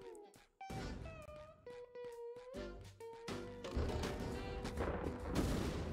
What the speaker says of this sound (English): Okay, so this cannon is shooting stuff.